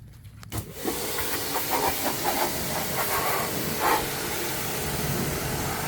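High-pressure washer spraying water onto a car, a steady loud hiss with spattering bursts, running alone close by.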